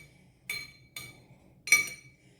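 A spoon strikes a bowl three separate times while curd is stirred, giving short, bright clinks with quiet gaps between them. The clinks are close by and sound without any talking.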